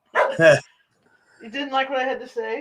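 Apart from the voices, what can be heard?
dog barking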